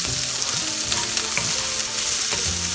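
Carrots and beans frying in a hot pan with a little pink salt, a continuous close sizzle broken by small scrapes and clicks of stirring throughout.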